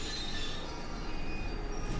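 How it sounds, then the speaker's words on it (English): A train in the Left 4 Dead RE2 mod video game rumbles along with a steady mechanical drone and faint wheel squeal, continuous and fairly loud, with no speech. "Now the train's going."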